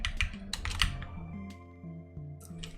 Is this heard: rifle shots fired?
no